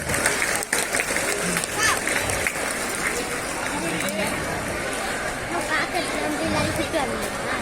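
An audience applauds karate students at a school sports day: dense, continuous clapping and crowd noise hold steady throughout, with a general hubbub of voices mixed in.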